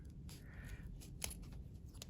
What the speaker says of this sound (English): you can actually trim the zipper